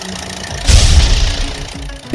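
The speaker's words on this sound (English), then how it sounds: "Green, tractor with baler." A cartoon tractor with a baler revs up in a children's learning song: a deep, loud rumble that surges midway and then settles into a steady running drone.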